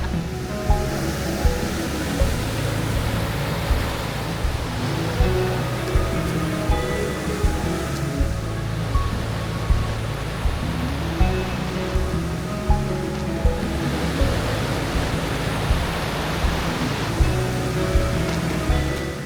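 Bridalveil Fall in Yosemite, a powerful waterfall sending a steady, loud broadband roar of rushing water, constant throughout with no speech over it.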